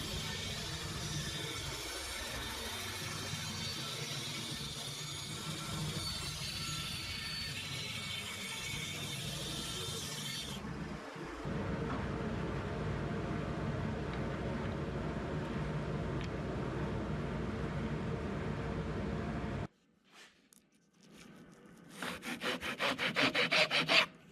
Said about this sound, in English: I decided to go ahead and cut the studs for this on the CNC to give it a test